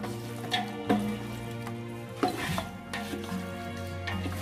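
Cooked mutton pieces go into a sizzling masala in a pan for biryani, with a soft steady fry, a few dull thuds and scraping stirs as the meat is tipped in and mixed.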